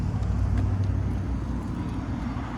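Cars pass on a city street, a moderate low rumble of tires and engines swelling near the start and easing off, with faint traffic hiss around it.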